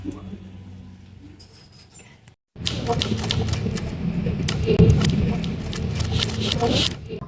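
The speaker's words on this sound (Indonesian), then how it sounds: "Saya akan mengetik naskahnya." Rapid clattering typewriter keystrokes, loud and close, following a quieter stretch with faint voices and a brief silence.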